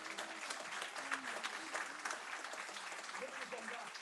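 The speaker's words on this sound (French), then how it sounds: "On peut les applaudir encore une fois." A church congregation claps together in a faint, steady round of applause, with individual hand claps audible under quiet voices.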